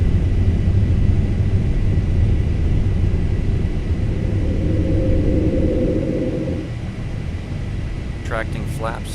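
Airliner engines at climb thrust in a flight simulator game, a loud steady broadband roar and rumble that eases slightly midway, with a brief chirpy sound near the end.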